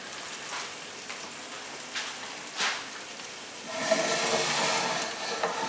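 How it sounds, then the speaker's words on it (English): Beef sizzles in a hot pan with extra virgin olive oil, a steady hissing crackle with brief spits that swells louder and denser in the second half, with no talking. "And here it's sizzling."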